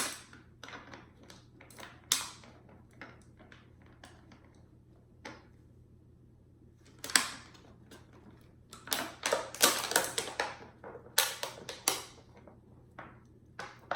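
Plastic parts being screwed and clicked onto a plastic bottle for a homemade full-auto airsoft gun, giving scattered close taps, clicks and creaks that grow busier and louder partway through, with no talking.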